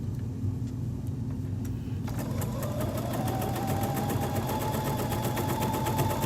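A sewing machine stitches a French seam on a pillow, starting up after a brief quiet hum and then running in a fast, steady, close mechanical patter throughout.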